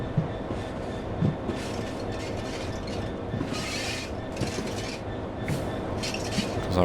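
Class 66 diesel locomotive easing up to couple onto aggregate hopper wagons in a train simulator game, a steady low rumble and rolling rail noise with light metallic clicks and bumps, no talk.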